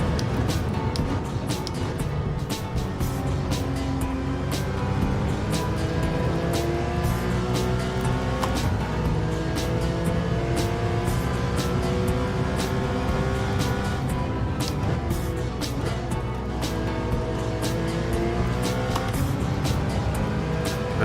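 Race car engines from Gran Turismo 7 drone steadily at high revs while the car runs in another car's slipstream, loud and continuous with shifting engine pitch and no talk.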